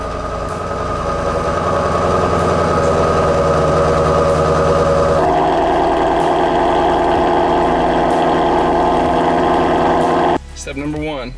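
A Ford GT350's Voodoo 5.2 flat-crank engine on a cold start runs as a loud, steady, rumbling idle with a clear pitch shift partway through, then cuts off abruptly near the end.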